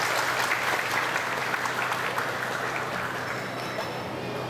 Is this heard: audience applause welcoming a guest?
yes